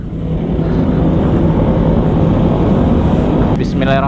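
An MV Agusta motorcycle roars loudly and steadily for about three and a half seconds in a wheelie attempt, with heavy wind buffeting, before a brief higher-pitched rev rises near the end.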